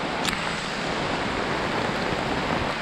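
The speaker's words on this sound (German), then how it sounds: "ein richtiger Dschungelregen" Heavy jungle rain falls in the Ecuadorian Amazon with big, fat drops, a loud, steady hiss that never lets up and has one brief sharper patter near the start.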